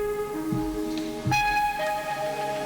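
A synth lead from a Pigments preset plays alone without its sequencer, sustained tonal notes gliding between pitches with a soft airy texture, moderately quiet and close.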